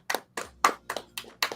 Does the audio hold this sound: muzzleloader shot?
no